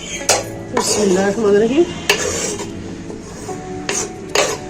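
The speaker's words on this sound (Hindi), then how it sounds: "अभी हमें ये इसमें मिक्स कर देना है" Spices being mixed into a potato filling for aloo paratha, with close scraping and stirring strokes against the bowl and several sharp clinks of utensil on metal, while a voice speaks briefly.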